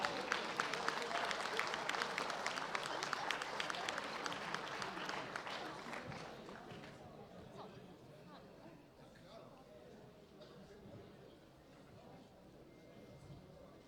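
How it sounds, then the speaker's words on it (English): Audience applauding a gold medal winner at the women's World Bench Press Championships 2016 in an arena, loud dense clapping and crowd noise that fades after a few seconds into quieter murmuring. "A big round of applause for Iris Kunkel."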